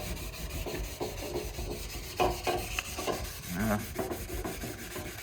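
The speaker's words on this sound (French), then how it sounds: "Faut que je ponce ça." Hand sanding on the bodywork of a Peugeot 205 car, with close, rhythmic scratchy rubbing strokes repeating steadily, and a brief spoken word near the end.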